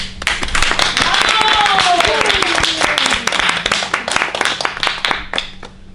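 A theatre audience claps for a woman on stage, a dense burst of loud, close hand claps that gradually thins out, while a voice speaks over it.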